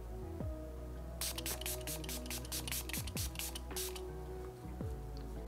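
A series of quick, hissing bursts of makeup setting spray in a rapid rhythm, close up, over a steady low background hum.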